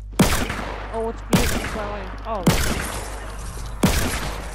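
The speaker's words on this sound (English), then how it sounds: "Oh no, I'm getting shot at." Gunfire bursts in the Fortnite video game, four sharp loud volleys spaced about a second apart, with excited player voices talking over and between them.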